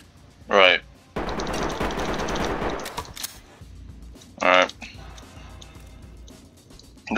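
Sustained suppressing gunfire from suspects in the tactical shooter Ready or Not, a dense rattling automatic burst followed by scattered sharper shots, interspersed with short voice bursts and talking.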